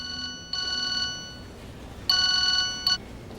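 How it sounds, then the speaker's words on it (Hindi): A phone ringing with bursts of electronic ringtone, repeated short tonal pulses starting and stopping, fairly close and clear. "फोन उठाओ प्लीज"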